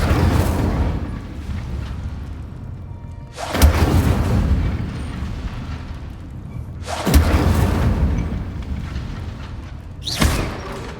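In Hogwarts Legacy, three booming, fiery blasts from the Incendio spell each hit hard and then roar away, spaced about three and a half seconds apart over a continuous rumble.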